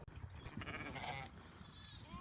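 A goat bleats briefly among a flock of sheep and goats, a wavering nasal cry heard close over a busy, noisy outdoor background.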